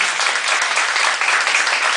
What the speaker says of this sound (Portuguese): esse caloroso aplauso desse pessoal aqui